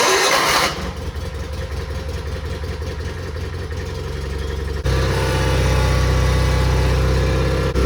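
A lawn mower engine in cold weather sputters to life and settles into a steady, loud, close running drone that grows fuller and rougher partway through, with no talking.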